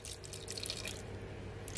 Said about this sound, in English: I'm adding just 1 tablespoon of water